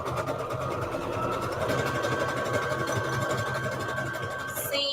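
Sewing machine running steadily as it stitches a junk journal cover, a continuous close mechanical whir with a fast regular needle rhythm, holding even in loudness throughout with no talk over it.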